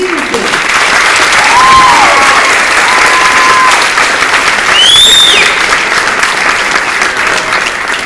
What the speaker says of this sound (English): A round of applause for our graduating senior team.